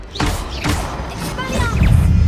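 Confringo fire spell blasts in the video game Hogwarts Legacy, two sharp explosive bursts with sizzling tails, loud and close, followed by rumbling impact noise as a player voice calls out spells between them.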